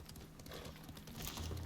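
Brief horse sounds in Ghost of Tsushima, with hoof clopping and a low snort over a steady game background bed, heard up close.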